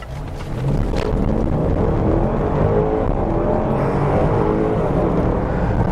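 A Range Rover Autobiography SV Dynamic accelerates hard, its engine roaring loud and steady from the cabin as it builds speed over several seconds, with no one speaking.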